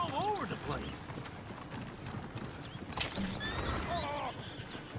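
Horses in the Western video game Red Dead Redemption 2 clatter with rapid hoofbeats and whinny twice, close and loud, while a voice talks over the action.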